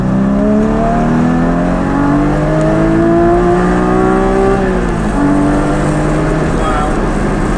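A Porsche Cayman GT4 engine revs hard and climbs through the gears as the car passes close by, a loud, sustained multi-harmonic howl that rises, dips briefly, then picks up again.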